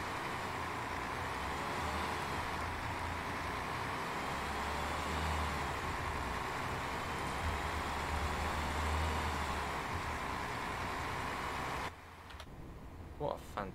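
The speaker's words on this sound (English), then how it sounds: "What a fantastic sounding bus." A bus in the OMSI 2 bus simulator game drives on a Yorkshire route, its engine a steady loud drone with deep low rumbling that swells for a few seconds, then cuts away near the end to quieter ticking.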